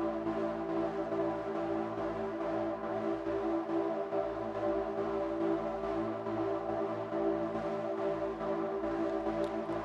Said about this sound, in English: He called it a tranquil atmosphere in A.